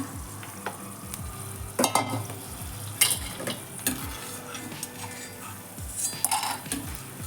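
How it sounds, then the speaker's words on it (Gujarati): Edible gum frying in ghee for a Gujarati winter gum sweet, with a steady close sizzle and repeated metal stirring clinks and scrapes against the pan. "બસ આ જ રીતથી આપણે લીધેલ ગુંદરને તળીને તૈયાર કરીશું"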